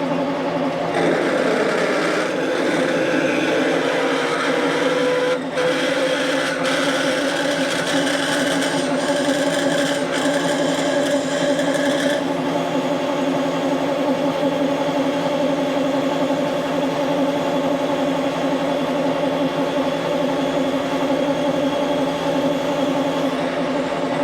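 A lathe runs at slow speed with a boring bar held in an ER 40 holder, a loud steady mechanical hum and whine with a faint chattering cut over the first half.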